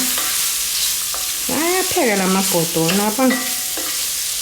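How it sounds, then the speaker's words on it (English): Chicken hearts and gizzards brown with spices in a hot pan, giving a constant close sizzle. A wavering, pitched whine rises over the frying for a couple of seconds in the middle. "And then we're just gonna brown all this together."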